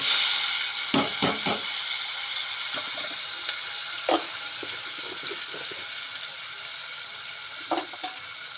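Cluster beans, potatoes, tomatoes and curry leaves drop into a hot cooker pot and fry, sizzling steadily under a few knocks and scrapes of stirring at the start and again later.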